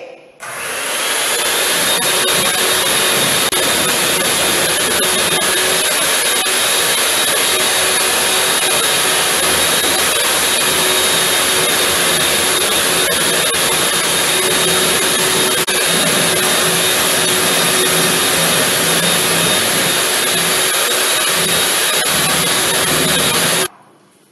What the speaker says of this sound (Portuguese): Vamos colocar a batedeira na velocidade máxima